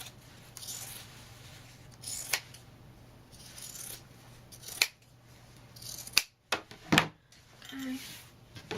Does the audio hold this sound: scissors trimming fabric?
yes